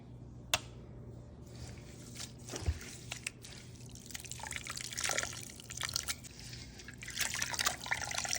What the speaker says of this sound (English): she's gonna add some room temperature water